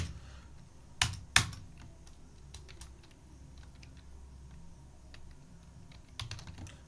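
Keys clatter on a computer keyboard while data is entered in TallyPrime accounting software: a couple of sharp keystrokes near the start, quiet ticking, then a short burst of typing near the end, close and otherwise quiet.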